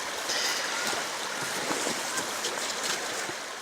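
River in the hills of Kisoro district, Uganda, a steady rushing flow of water, continuous and fairly close, with no talking.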